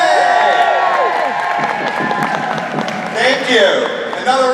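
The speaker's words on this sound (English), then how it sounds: "Another round of applause for these guys." Audience at a Supernatural fan convention panel breaks into cheering, whoops and clapping, a loud close crowd burst that dips briefly and swells again near the end.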